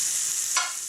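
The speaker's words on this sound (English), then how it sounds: "in goes our shallots, or the brown onion, depending on what you're using, and in goes the garlic" Shallots and garlic hit melted butter in a hot pan for arancini, giving a bright, steady sizzle with a short louder burst midway as they go in, close and alone.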